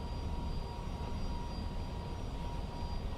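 Airbus A321neo jet taking off from Lisbon in a flight simulator game, a continuous loud engine roar with a steady hum and faint high tones, no voices.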